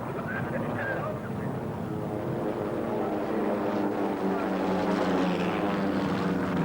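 A low-flying Beagle Pup light aircraft in an air race drones past with a steady propeller engine hum. The sound is continuous and fairly distant, under an outdoor rushing background.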